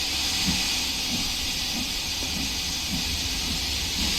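Continuous loud steam hissing from a steam locomotive in Train Sim World 2, with a low rumble beneath, steady and unbroken from start to finish.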